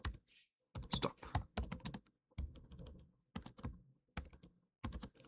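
Bursts of close computer keyboard typing while code is entered, quick clusters of key clacks with short pauses between.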